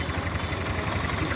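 A 160 cc 4-valve motorcycle engine idles cold with a replaced rocker making noise, a steady dense rumble with a faint rapid ticking knock throughout, close and moderately quiet.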